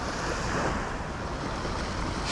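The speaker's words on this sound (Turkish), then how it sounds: "Deniz bugün biraz hareketli düne göre." Rough sea surf rolling onto a shallow sandy beach, a steady broadband roar of breaking waves mixed with wind noise on the microphone, close and continuous with no voices.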